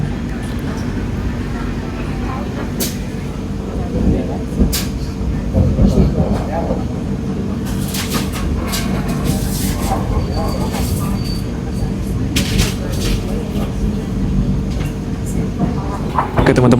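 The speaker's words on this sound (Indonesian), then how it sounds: "kereta api Pangrango diberangkatkan dari stasiun Sukabumi" The KA Pangrango economy passenger train pulls out of Sukabumi station with a steady low rumble, rising rail clatter and occasional squeals, loud and close.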